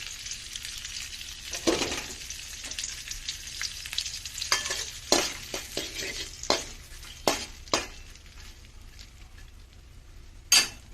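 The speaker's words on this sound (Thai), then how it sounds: "ทอดกุ้งเสร็จแล้ว" Shrimp fry in hot oil with a soft, steady sizzle, broken by sharp clinks and scrapes of a utensil against the pan and dishes, close by.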